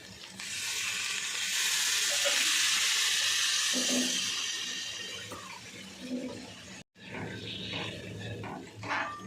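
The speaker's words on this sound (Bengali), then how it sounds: "এবার আমি দিয়ে দিচ্ছি জল।" Cold water poured into a pan of hot oil and spices for a koi fish curry, setting off a loud, steady sizzling hiss that gradually fades. After a brief cutoff, quieter bubbling and stirring follow.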